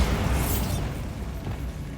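A Bombarda spell in Hogwarts Legacy detonates in a mine tomb, a loud booming blast with a crackling, rumbling tail that slowly fades over two seconds.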